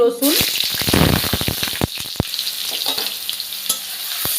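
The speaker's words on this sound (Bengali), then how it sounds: "রসুনটাকে ভাজা ভাজা করে নেব" Hot oil with whole garam masala and a bay leaf sizzles loudly as garlic hits the pan, a crackling hiss with sharp pops and scraping stirs that settles into a steady fry.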